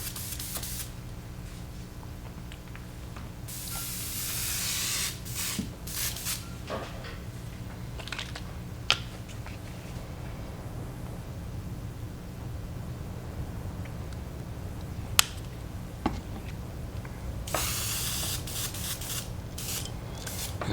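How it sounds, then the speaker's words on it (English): An airbrush sprays Createx Pearl Plum paint at low pressure onto a fishing lure, producing bursts of hissing air that start and stop over a steady low hum, with a few sharp clicks scattered between sprays. "now I'm going to add a little bit of this Pearl Plum from Createx into the airbrush."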